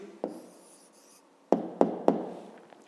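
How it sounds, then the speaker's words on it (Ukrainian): A pen writes out an answer to a fifth-grade maths exercise, giving a soft scratch followed by a few sharp taps against the paper or desk, close and quiet. "Пишемо відповідь."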